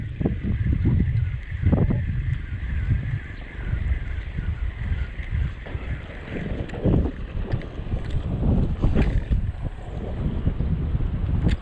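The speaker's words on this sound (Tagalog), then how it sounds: "Tapos sobrang lakas pa ng hangin, ang hirap maghagis" Strong wind buffets a small fishing boat out at sea, giving loud, continuous roaring gusts and microphone rumble over the slap and wash of water against the hull, with no one speaking.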